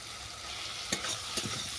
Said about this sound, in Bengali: এটা আমি আরও 2 মিনিট নেড়ে চেড়ে নেব।